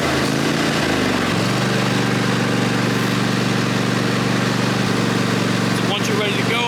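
A Cub Cadet Enduro Series lawn tractor engine cranks and catches, then settles into a loud, steady running drone close by that continues to the end.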